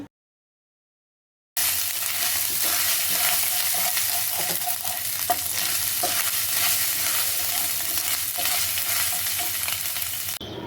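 Ginger-garlic paste fries in a pan for masala khichdi, giving a loud, continuous hiss with faint stirring scrapes that starts after a moment of silence.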